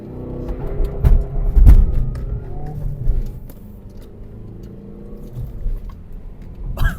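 A Mazda 3 accelerating, heard from inside the car as a loud low engine rumble that swells and surges over the first few seconds, then settles into a steadier drone with a few bumps and knocks.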